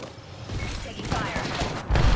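Gunfire in a ranked Apex Legends match on console, a burst of shots cracking out over steady battle noise and ending in a heavier close impact.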